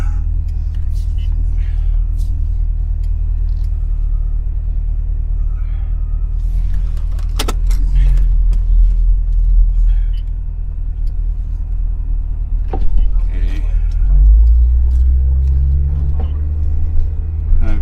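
A loud-exhaust Corvette rumbles deeply and steadily in a parking lot, captured up close from a windshield mount, with the engine note swelling as it revs near the end.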